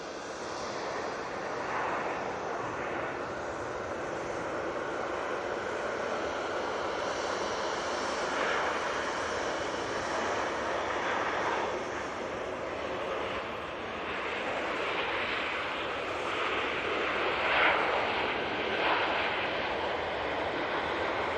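A Ryanair airliner from Genoa roars steadily on its final approach to touchdown at Manchester Airport, a broad sustained engine noise heard from a distance at moderate loudness.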